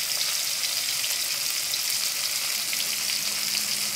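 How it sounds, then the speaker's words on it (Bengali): Small puti fish fry in hot oil in a pan, a dense, continuous crackling sizzle heard up close and fairly loud, with no voices. "পুঁটি মাছ ভাজা হচ্ছে"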